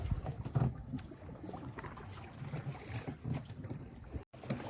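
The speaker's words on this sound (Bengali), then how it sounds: "আমাদের নৌকাও প্রচণ্ড স্পিড হয়ে গেছে" A fishing boat speeds across open water while hooked lines are being set, giving a steady broadband rush of hull spray and wind buffeting with a low engine rumble, loud and continuous throughout with one brief dropout near the end.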